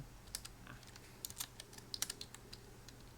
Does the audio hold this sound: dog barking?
no